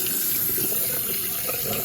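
Hot water runs steadily from the faucet of a 2016 Livin Lite Camplite 21RBS camper, a loud, even hiss and splash of flowing water that continues unbroken throughout.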